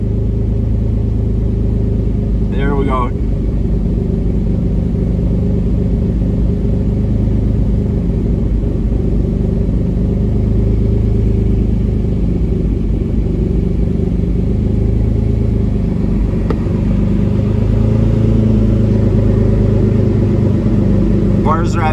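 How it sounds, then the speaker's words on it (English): A 1999 Lamborghini Diablo Roadster engine idling steadily, a loud, close, low rumble that lifts slightly toward the end as revs rise, with someone talking briefly over it. "now the engine's going to probably kick up a bit more to get it to the 1100"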